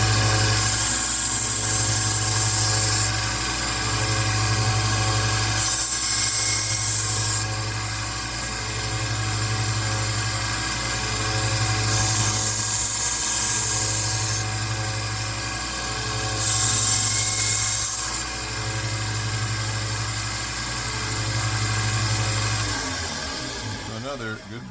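An old Swiss Champ pocketknife is sharpened on a powered sharpener, giving a steady high whine with a rhythmic rise and fall as the blade is drawn through in repeated passes.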